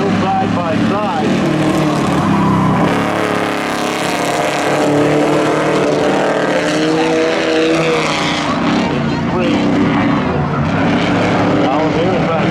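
Volkswagen and Ford race cars at Seekonk Speedway's spectator drags, their engines a continuous dense roar that never lets up, with an announcer talking over the top throughout.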